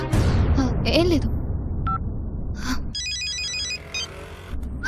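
A mobile phone rings out in a film scene, its repeating electronic ringtone pattern sounding clearly over background noise and brief bursts of other sound, with people talking around it.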